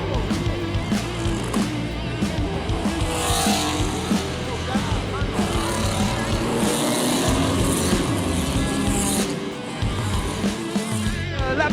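Race cars roar past amid an enormous accident at the back of the field, with loud engine drone, scraping and tyre noise and a commentator talking over the chaotic din.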